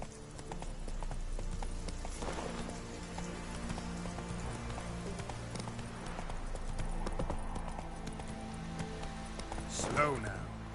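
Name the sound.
Roach the horse's hooves clip-clopping, from The Witcher video game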